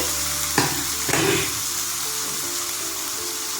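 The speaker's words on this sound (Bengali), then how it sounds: "চিকেন কষানো হয়ে যাচ্ছে" Chicken sautéing in a pan for a potato chicken curry, a steady close sizzle with a couple of brief stirring scrapes near the start.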